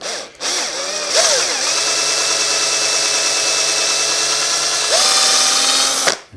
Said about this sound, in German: Die Fingerchen nach Möglichkeit nicht dahinter halten und wenn es irgend geht, gerade bohren.